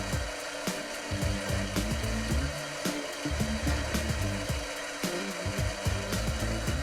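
Stepper motor driven lathe cutting metal, a continuous machining whine with rhythmic grinding pulses and sharp periodic clicks, close and steady throughout.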